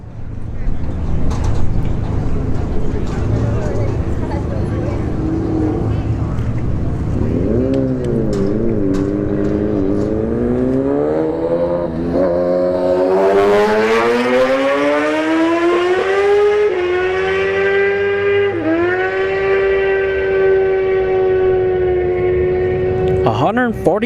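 A Kawasaki ZX-10R motorcycle makes a drag racing run at a Florida motorsports park, its loud engine note climbing steadily in pitch through the gears with short dips at the shifts, close and intense, over the crowd noise of the track.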